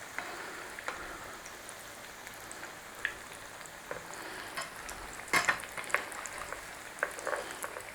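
Chicken shawarma potato cakes sizzle steadily in hot oil while they are turned over, with a few sharp clinks and scrapes standing out over the constant frying hiss.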